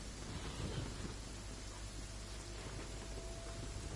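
Rain and thunder in Genshin Impact: steady rainfall hisses over a low rolling rumble of thunder, a continuous, fairly quiet wash of sound with no voices.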